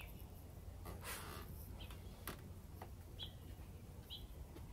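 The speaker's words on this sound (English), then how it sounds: "You can hear the birds singing, chirping behind me." Birds chirp outdoors near a porch, giving a few faint, brief chirps over a steady background hiss. They sound distant and quiet, with no talking.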